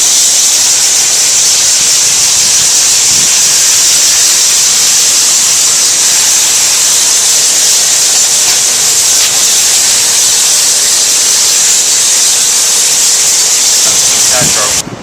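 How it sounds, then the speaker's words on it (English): A loud, steady hiss of clear water spraying to rinse debris from a condenser coil runs without a break the whole time, close and unchanging. "We're going to rinse off some of the loose debris from the coil to start with, just some clear water."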